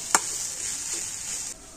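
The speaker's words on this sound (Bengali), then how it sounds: "আমি সমস্ত সবজিগুলো ভালোভাবে নাড়াচাড়া করে নেব।" Grated mixed vegetables are stirred and fried in a pan, making a continuous close sizzle with a sharp scrape near the start, until the sound drops away abruptly near the end.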